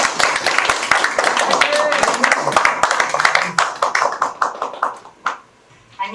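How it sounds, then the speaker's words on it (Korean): Audience clapping at a neighborhood residents' general assembly in Korea: a dense burst of hand claps that thins into scattered claps and fades out near the end. "여러분 큰 박수 부탁드립니다."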